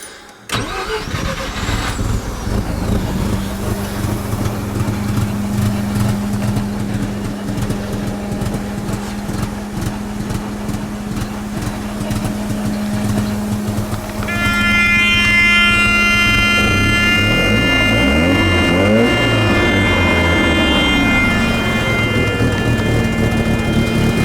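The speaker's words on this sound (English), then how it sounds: "Let's try to start her up again and see what happens." A Mazda FC3S RX-7 Turbo II rotary engine, just revived after sitting, cranks and catches, then settles into a loud, close idle before rising into several revs that swell and fall.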